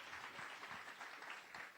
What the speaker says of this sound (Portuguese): que a igreja o receba com uma carinhosa salva de palmas a Jesus